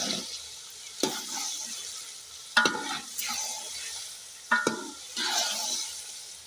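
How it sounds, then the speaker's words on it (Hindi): Chicken fries with tomatoes and green chillies for an achari chicken pulao, a steady sizzle broken by several sharp scrapes and clatters of stirring at irregular intervals, close and moderately loud with no talk. "चिकन को हमने अच्छी तरह से भून लिया है। इसमें हम डालेंगे टमाटर और हरी मिर्चें।"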